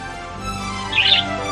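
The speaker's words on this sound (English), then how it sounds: "the bird is the Budgerigar" A budgerigar gives a single short, bright chirp partway through, standing out over a quiet background.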